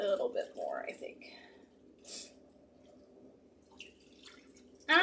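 Homemade broth goes into a Pampered Chef enameled cast iron skillet in wet, splashing bursts and drips, with quieter trickling between them. A brief voice-like sound comes midway, and a louder splash lands at the end.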